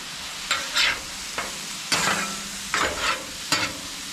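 Scallops, still slightly frozen, sear in a hot pan with a steady loud sizzle, punctuated by about six bursts of spatter and scraping as they are stirred and moved.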